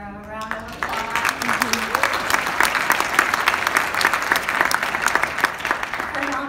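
Audience applause breaks out at an ASLA design award acceptance speech, a dense, steady wash of clapping lasting several seconds right after a brief voice at the start.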